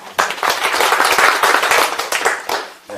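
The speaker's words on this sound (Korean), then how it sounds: "여러분 박수 부탁드리겠습니다" An audience claps at a Korean internet forum panel discussion as a commentator is introduced, a dense, close round of applause that swells and then tapers off after a few seconds.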